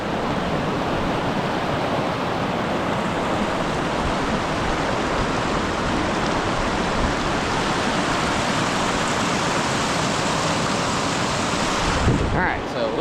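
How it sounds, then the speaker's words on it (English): A river on the Old Sugarlands Trail rushes in a steady, loud broadband roar of flowing water that stays constant throughout, close by and alone. "Here's just one more shot of the river."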